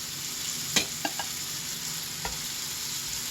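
Patties frying in a skillet over moderate heat give a steady, even sizzle, with a few soft clicks and taps of a utensil against the pan.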